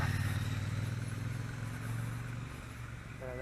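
A motorcycle passes along a street, its engine droning steadily and fairly close, then fading slightly as it moves off, with a faint higher whine rising at the end.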